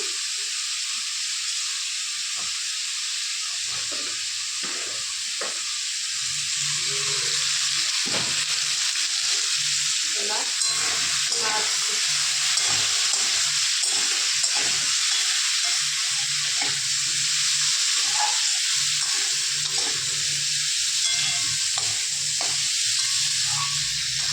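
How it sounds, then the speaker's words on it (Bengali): Green jackfruit and potato fry together in a pan with turmeric and salt, giving a constant close sizzle and hiss with frequent scrapes and knocks of stirring throughout. "ওই জন্য এঁচড় আর আলুটা একসঙ্গে একটু ভেজে নিই।"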